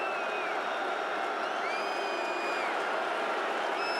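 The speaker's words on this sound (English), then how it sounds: "You can hear the crowd in the Dome getting into it." A stadium crowd roars inside the Dome at a college football game between Georgia Tech and Syracuse, a dense, sustained wall of cheering with scattered whistles and whoops rising over it.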